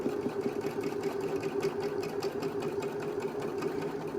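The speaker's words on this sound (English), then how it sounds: "Again with the back stitch. Just keeping that 5/8 inch seam." A sewing machine back-stitches a 5/8 inch seam on a cloth mask, a steady close mechanical whir with fast even needle ticking that runs without a break and without any talking.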